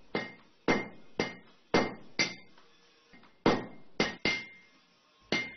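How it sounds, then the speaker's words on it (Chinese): Copper sheet, pre-treated, struck by hand with a hammer beside a forge during traditional mottled-copper craftwork: about ten sharp, ringing metallic blows at an uneven pace, each decaying quickly, close and clear with no talk. "静静地敲打着这块处理好的铜料"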